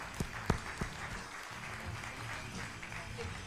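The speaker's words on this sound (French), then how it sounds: "Que l'on peut applaudir, s'il vous plaît." An audience at a 2012 24 Heures du Mans press conference claps steadily, a few sharp individual claps up front over a sustained patter of applause filling the room.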